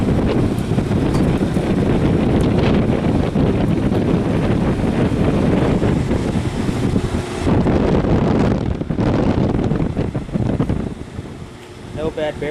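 A Zenith or Gibson 5000 BTU window air conditioner runs on high fan, making a loud, steady whooshing roar with an audible motor hum close to the microphone, and a voice talks over it.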